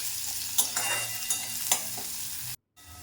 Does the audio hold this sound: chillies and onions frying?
yes